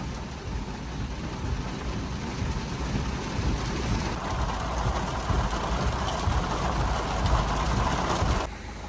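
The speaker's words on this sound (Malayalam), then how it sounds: "നല്ല മഴ, സൂപ്പർ മഴ." Heavy rain pours on a parked car and is heard from inside the vehicle on a trip near Kozhikode, a dense, continuous roar with no voices, ending with a slight drop in level.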